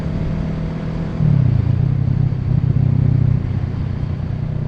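A motorcycle engine runs steadily as the rider eases through clutch-controlled upshifts with barely any throttle, its pitch rising and falling slightly between gears, close by and with no talk.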